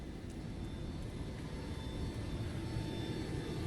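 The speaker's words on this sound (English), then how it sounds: "that's what this whirring sound you've been hearing is the APU" Steady, droning whir of a Boeing 727 auxiliary power unit in Flight Simulator 2024, a constant mid-level hum that stays even throughout with no talk over it.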